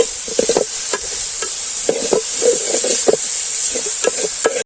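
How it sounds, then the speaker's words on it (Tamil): Three large, finely chopped onions sauté with curry leaves in a pan for pepper chicken. A constant close sizzle runs throughout, broken by frequent, fairly rhythmic scraping strokes of a spoon stirring through the pan. "வெங்காயத்தை நல்லா வதக்கிக்கலாம்."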